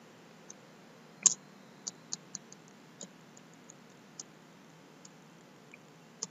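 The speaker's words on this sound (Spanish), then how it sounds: "si le doy un clic sobre el área de trabajo" A computer mouse clicking while working in a spreadsheet, with sparse, quiet, sharp clicks at irregular intervals over a faint steady background hiss, one louder double click standing out early on.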